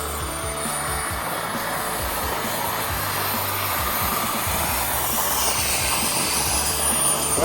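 A model jet engine runs steadily at an airfield, a loud, continuous turbine roar and hiss holding an even level for several seconds, heard alone without talk.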